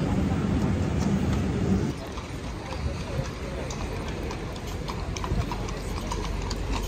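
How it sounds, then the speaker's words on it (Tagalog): Horse hooves clip-clop steadily on pavement at a Vienna Christmas market, a clear rhythmic series of close knocks amid crowd bustle, with people talking over it. "Oh, ang laki ng mga kabayo dito."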